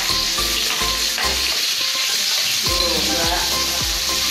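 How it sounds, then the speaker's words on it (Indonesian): Tofu and tempeh frying in oil, a loud continuous sizzle close by, with a few low knocks and stirring clunks of a utensil against the pan. "Kita goreng tahu, goreng tempe di sana ya"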